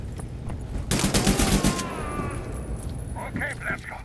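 A short burst of rapid assault rifle fire in a shooter video game, loud and fast, lasting under a second, followed by lower game noise and a voice talking.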